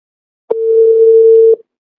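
A WhatsApp call ringing tone sounds once as a single steady electronic beep of about a second, clean and alone against silence.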